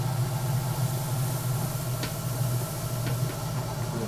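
A spinning pottery wheel being cleaned gives a steady, even motor drone with a low hum, broken by a couple of faint light taps or scrapes.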